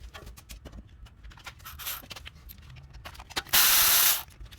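Ratchet wrench loosening a 12 mm bolt during a Toyota Tundra front brake job: quick close clicking bursts, then a loud steady hiss of spray near the end.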